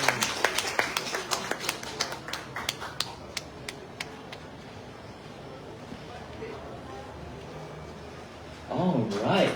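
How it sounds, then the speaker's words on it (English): Hands clapping from an audience at a book launch and forum in Malaysia: a string of separate, evenly spaced claps that thin out and fade within a few seconds, then near silence before a voice starts speaking at the end. "Please clap your hands."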